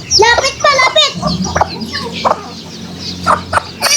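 Chickens cluck in quick clipped bursts close by in a backyard feeding area, mixed with people talking.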